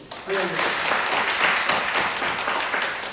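Church congregation bursts into applause during a Sunday morning sermon, a sustained roar of clapping starting abruptly after a brief voice and staying loud to the end.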